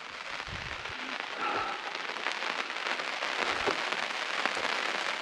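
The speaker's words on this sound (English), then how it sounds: "Now it's starting to rain a little harder." Rain patters steadily on a forest campsite under trees and an awning during a solo camping trip at Weston Pass, a dense, even hiss of drops that builds slightly, with no voices.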